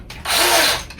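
A power drill cutting a countersink in a model railway control panel, one short whirring burst lasting about half a second, close and fairly loud, rising and falling in pitch.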